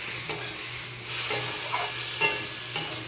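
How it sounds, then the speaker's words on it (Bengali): Ground spices frying in a pan with salt and water give a soft steady sizzle, with occasional stirring scrapes and clinks, close and fairly quiet with no talk. "এবার ভালো করে মশলাগুলো ভেজে দেব।"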